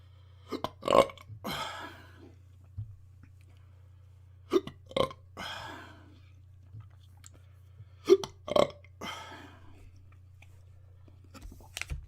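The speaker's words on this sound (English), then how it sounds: "Here's hiccups." Loud, close hiccups and gulping burps come in three clusters after a person eats a very hot Fiery Jacks chip, with a steady low hum underneath.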